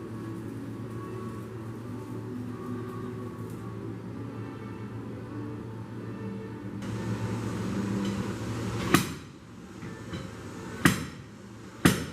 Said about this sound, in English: so that the slide hammer can get